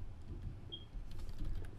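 Soft typing on a computer keyboard, scattered light key clicks over a low room hum, with no voices.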